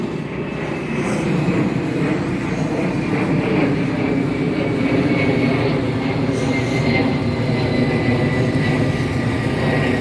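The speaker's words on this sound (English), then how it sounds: "Let me let this plane go by." A plane flying overhead outdoors, a broad, loud engine roar that swells in and holds steady for several seconds without talk.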